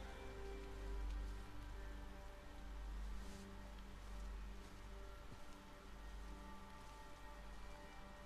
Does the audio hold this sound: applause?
no